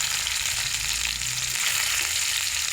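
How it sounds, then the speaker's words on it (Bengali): Cumin seeds and a little onion fry in hot oil as the base for a lote fish curry, giving a close, steady crackling sizzle with no talking. "তেল গরম হয়ে গেছে, জিরে দিলাম, অল্প করে পেঁয়াজ দিলাম।"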